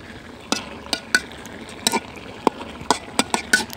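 Fish khuri, a dry village-style fish dish, being stirred in a covered pan, giving a series of sharp utensil scrapes and knocks at an uneven pace over a low steady sizzle, close by with no talk.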